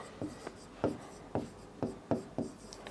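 Chalk or marker strokes writing a short sentence on a classroom board, a series of about seven quick, distinct scratchy taps and swipes in an irregular rhythm, close and fairly quiet, with no talking.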